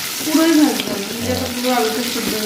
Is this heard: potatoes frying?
yes